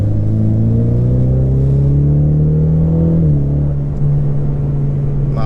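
Ford Mustang accelerating hard, a loud, steady engine drone climbing in pitch through a gear, dropping briefly at a shift, then pulling again, heard from inside the car with no talk.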